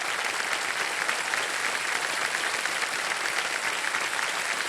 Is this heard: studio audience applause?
yes